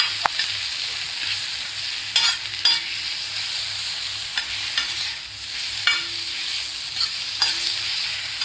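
Masala for egg tawa fry sizzles softly on a hot tawa while a spatula scrapes and stirs it in irregular strokes, close and clear.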